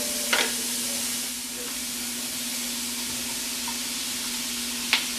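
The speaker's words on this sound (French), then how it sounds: "Et là, on fait rissoler. Avec l'ail, ça revient dans quelques instants." Onions and ham sizzling in a pan, a steady close frying hiss with a faint hum beneath and a couple of brief stirring scrapes near the start and end, no talk.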